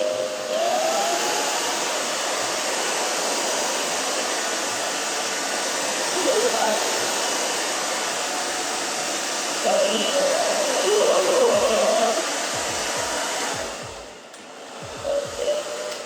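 A hair dryer set on high blows steadily through a short pixie cut at a salon, a loud, continuous whooshing roar lasting throughout, with faint voices murmuring beneath it.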